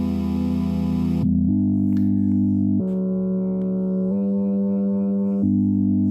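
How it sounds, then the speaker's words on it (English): Bright, buzzy sawtooth-wave chords from a Chord Machine Eurorack synthesizer module, loud and sustained, shifting to a new chord every second or so with no voices. "This is a sawtooth waveform."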